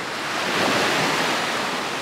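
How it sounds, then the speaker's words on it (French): Sea waves at sunrise make a steady, broad wash of surf, with wind buffeting the microphone. The sound is loud and continuous, swelling slightly midway, and no voices are heard. "Tu vois les oiseaux, les vagues, le bruit de la mer."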